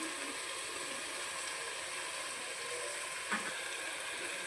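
Mutton keema fries and sizzles steadily in a pan, a constant hiss with one faint scrape of stirring; no voices.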